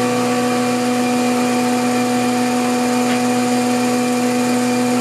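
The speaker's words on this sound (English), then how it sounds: "Let's finish planing. We'll have a few more passes here." An electric planer shaves wood for a bathroom cabinet, running as a loud, steady, unbroken drone with a constant hum throughout.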